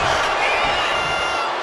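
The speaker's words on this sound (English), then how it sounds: "Look at Gunther taking in all the energy from the crowd" Dense, steady arena crowd roar and cheering from a WWE 2K wrestling video game match, loud and continuous throughout without spoken words on top.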